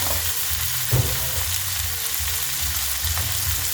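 Vegetables cooking with spices in a pan over low heat give off a constant soft sizzle, close and even, with a few small clinks of stirring.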